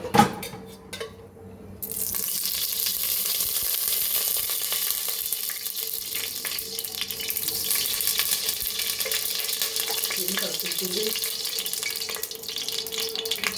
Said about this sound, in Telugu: జీడిపప్పు వేసుకుందాం. వేగుతున్నాయి.